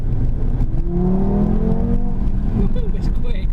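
A 2017 Audi TT RS with a 400 PS engine pulls hard around a hill circuit, heard from inside the car with the window down. A rising whine climbs steadily over loud road and wind roar.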